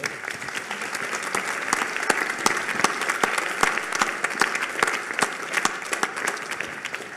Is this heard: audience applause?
yes